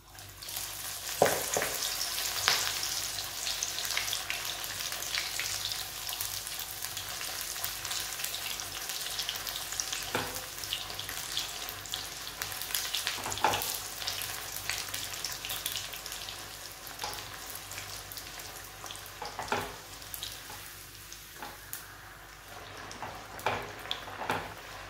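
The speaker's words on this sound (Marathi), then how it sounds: "आता आपण हे तळून घेऊया" Methi puris fry in hot oil, a dense continuous sizzle and crackle with occasional louder pops and bubbling bursts, close and steady throughout.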